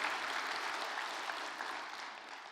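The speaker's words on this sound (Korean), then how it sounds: "이때 박수가 좀 나오면 기가 막혀요." A church congregation applauds during a sermon, soft and distant steady clapping from many hands that eases slightly toward the end.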